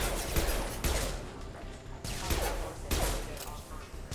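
Gunfire in the video game Mass Effect 2, loud bursts of automatic shots that come in several clustered volleys with short gaps between them.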